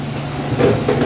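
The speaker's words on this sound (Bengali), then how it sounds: "অলরেডি এবার ফোটা শুরু হয়ে গেল" Hilsa fish in a covered wok: a steady, loud hiss as water starts to boil and steam rises, with faint bubbling swells rising near the end.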